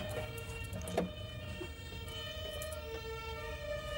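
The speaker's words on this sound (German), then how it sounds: "Boah, ein Krankenwagen." An ambulance siren passes with a faint, steady wailing tone that holds its pitch, sounding distant over a low rumbling background.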